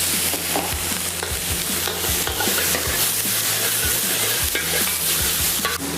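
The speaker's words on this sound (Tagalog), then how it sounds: "At pag nagisa na natin, ilagay na natin ang napritong spare ribs." Fried spare ribs sizzle and crackle in a hot pan while being stirred and sautéed, a loud, steady frying hiss with scraping and clattering throughout.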